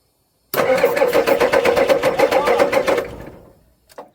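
An old diesel engine left abandoned for over twenty years cranks over rapidly with a fast rhythmic chugging for about two and a half seconds, then fades as it fails to catch, followed by a brief faint clank.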